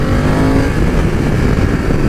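A BMW F900XR motorcycle braking hard into a stoppie, its engine note falling beneath loud, steady wind rush, close and continuous with no talking.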